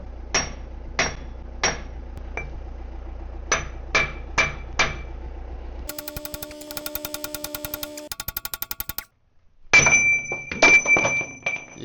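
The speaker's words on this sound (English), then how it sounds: "Just need a bigger hammer." A series of sharp metallic hammer strikes on a loader cylinder, spaced irregularly, followed by rattling mechanical noise and a final burst of ringing metal clanks.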